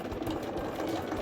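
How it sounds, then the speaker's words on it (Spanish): Domestic sewing machine stitching fabric for a bowling-style handbag, a steady close, continuous motor whir with rapid needle rhythm running throughout without pause. "Entonces otra vez lo bajo, coloco un poquito si se me ha movido y sigo cosiendo"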